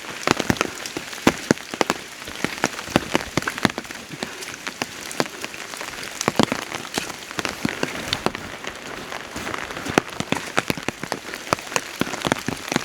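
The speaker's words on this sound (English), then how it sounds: "It's been raining constantly from the time we are walking." Heavy rain falls steadily through forest on a rainy hill trek, with a dense constant patter and many sharp drops striking leaves and surfaces close by, no voices.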